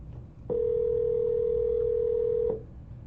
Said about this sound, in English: I'm calling your neighbor right now.